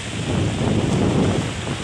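Steady wind buffeting the microphone at Alimanguan, San Vicente, Palawan, a dense continuous rumble with gusty swells, no voices present.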